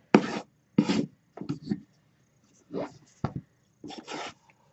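Gentle rubbing strokes of a wax tool burnishing a gummy adhesive coating while making a shabby-style dollhouse, heard as several short, close raspy bursts separated by brief pauses.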